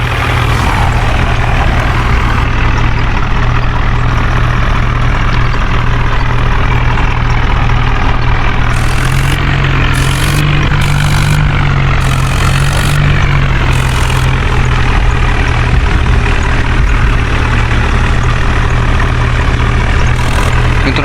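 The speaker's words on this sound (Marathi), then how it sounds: "ट्रक चालली बघा" A loaded truck carrying a tractor drives with its engine running loud and close, giving a continuous low rumble and drone through the whole stretch. No one speaks over it.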